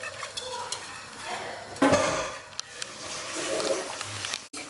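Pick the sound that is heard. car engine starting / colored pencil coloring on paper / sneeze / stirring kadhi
stirring kadhi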